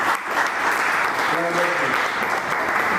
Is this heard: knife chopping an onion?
no